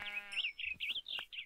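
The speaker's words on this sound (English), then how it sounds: "Let's just go murder some sheep because I want wool." Sheep bleating in a modded PC video game, a few short wavering bleats in quick succession, close and clear with no talk over them.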